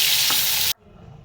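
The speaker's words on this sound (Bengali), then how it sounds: "দেখো আমার চিংড়ি মাছগুলো ভাজা হয়ে গেছে এবার উল্টিয়ে দিয়েছি" Shrimp frying in oil while being flipped in the pan, a loud close sizzle with a faint scrape that cuts off abruptly, leaving a quiet crackle.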